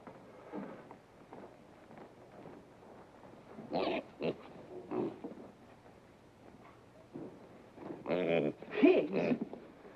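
Pigs oink and grunt in a few short bursts, louder near the end, mixed with quieter voices in a 1950s sitcom scene.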